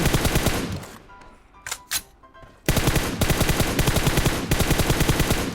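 Rapid automatic gunfire in the mobile game PUBG Mobile, loud dense bursts of shots at close range, broken by a short lull with a few isolated shots before the firing resumes steadily.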